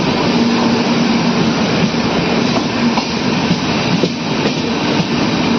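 The Lucknow Chhapra Express passenger train rolls along with a loud, continuous rumble and faint rhythmic wheel clatter, heard close from on board.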